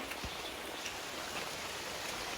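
Heavy rain falling during a flood with river water close to a house, a dense, steady hiss of drops on surfaces, close and loud throughout with no voices.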